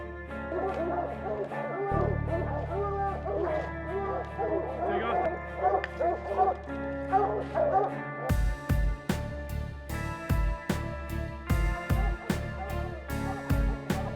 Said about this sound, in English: We've got some awesome dogs.